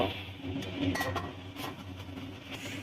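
Lid set onto a cooking pot of fish curry with potatoes, a few light metallic clinks and taps over a low background hum.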